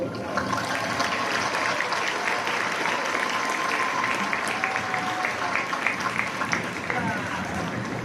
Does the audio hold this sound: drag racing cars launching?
no